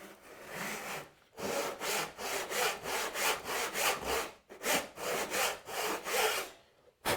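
Hand saw cutting into wood for a sliding dovetail, close and steady rhythmic rasping strokes back and forth with two brief pauses, no talking.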